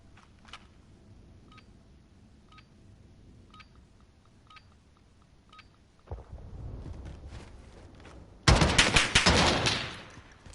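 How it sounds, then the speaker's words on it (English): Burst gunfire in a 2v2 shooter video game tournament match: faint beeping pings early on, then rumbling action, and a loud dense rattling burst of shots near the end. "here with the burst fire"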